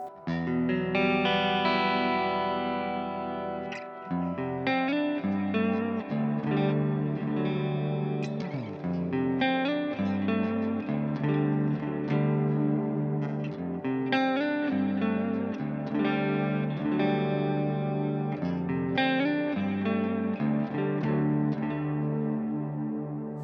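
An Epiphone Extura Prophecy electric guitar played with clean, chiming tones through chorus and echo effects, strummed chords and picked notes ringing continuously and fairly loud.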